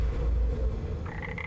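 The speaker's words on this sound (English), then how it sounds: "Catachan barking toad, sir." A Catachan barking toad croaks in a Warhammer 40k animation, giving a loud, low, rumbling croak that ends in a higher, tonal call.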